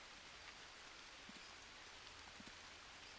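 Steady rain hisses and patters across the surface in the jungle survival game Green Hell, a dense continuous downpour with a few louder drips standing out, no voices.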